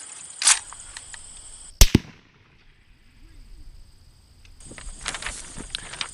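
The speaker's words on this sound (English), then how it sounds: "So there we are, there's our shooting." Deer rifle shots fired at a target outdoors: a sharp loud crack near the start, a single powerful report near two seconds with a brief echoing tail, then quiet and faint rustling.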